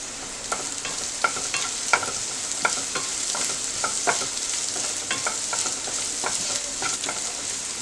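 Carrots and vegetables sautéing over a full flame, a steady hiss of frying broken by regular scraping strokes of a spatula stirring the pan, close and fairly loud with no voices.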